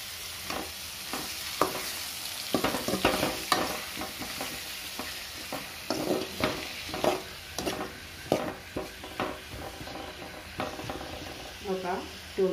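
Cucumber pieces frying and being stirred in a pan for a cucumber curry, with a soft steady sizzle under repeated scraping and clattering strokes of a spoon against the pan.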